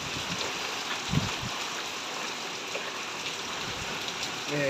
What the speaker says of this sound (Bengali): হঠাৎ ঝড় উঠেছে